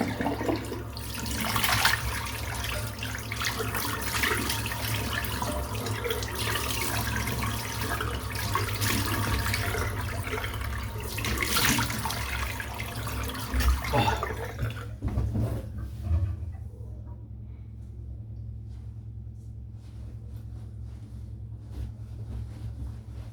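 Tap water runs steadily into a sink while a shaving brush is rinsed under it, a loud continuous splashing rush that cuts off about two-thirds through, leaving faint drips and room quiet.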